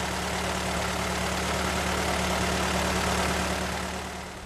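A Ford Model T engine runs steadily, a loud, continuous close-up rumble with an even low drone and no voices, easing slightly near the end.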